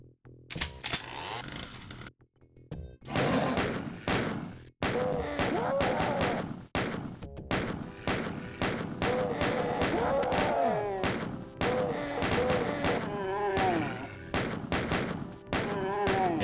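Doom game sound effects played in mono through a Sound Blaster 2.0 card's 8-bit output: loud, gritty gunshot blasts, thuds and growling monster noises come in quick succession, with short silent gaps between them.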